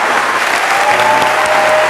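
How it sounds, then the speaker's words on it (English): Audience applause at a speech by Dr. Cornel West, a dense, steady wash of clapping from a large crowd that holds for the full two seconds without any talk. "clap."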